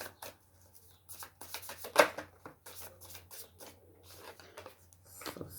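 Tarot cards shuffled once by hand, a run of quick papery riffles and soft slaps near the microphone, with one sharper snap partway through and no talking.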